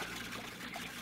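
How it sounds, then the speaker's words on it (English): A small recirculating garden fountain trickles and splashes steadily as a radio drama effect, a soft continuous water texture with no pauses, faint and close throughout. "Most ingenious, my fountain. Costs so little to run because it uses the same water"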